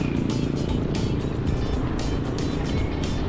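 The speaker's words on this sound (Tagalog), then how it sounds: "may nag-overtake pa sa aking motor" Engine and road noise rumble steadily as a vehicle overtakes a slowly ridden motorcycle on a road at night, with a rushing passing sound.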